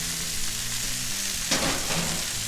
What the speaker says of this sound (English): Squash and zucchini cooks fairly fast, guys, so that's why we're gonna cook them together.